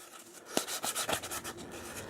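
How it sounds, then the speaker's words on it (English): Sandpaper rubbing the finish off the wooden stock of a Crosman 760 air rifle in a few short, rasping strokes, fairly quiet and close, with no voices. "as you're sanding this chip out here, or at least just sanding the finish off"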